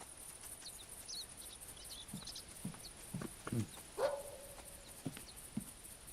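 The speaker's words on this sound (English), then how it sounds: "Sounds like a dog barking." A distant dog barks in the hunting video game theHunter Classic, with several faint, short barks spread over a quiet outdoor ambience and a steady high insect-like hum.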